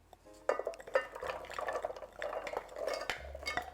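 Frozen blueberries tumble into a pan, giving a quiet patter of small clicks and knocks against metal with faint stirring scrapes, close and soft, no talking.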